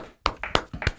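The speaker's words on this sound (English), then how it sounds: "It's a good clap." Sharp hand claps and taps close to the microphone, three quick distinct impacts within a second after a brief silence.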